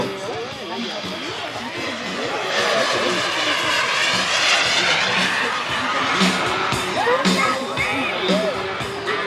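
A 1/9-scale model Rafale jet's twin engines roar and whine as it passes overhead at an air show, rising and falling in pitch, with a crowd and talking underneath.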